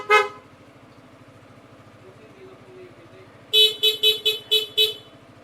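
An old car horn with a weak power supply, being tested after fitting, honks once, then after a quiet idle blares in a rapid series of six short toots over a low rumbling engine.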